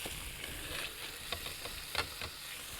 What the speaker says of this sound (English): we're cooking some chicken here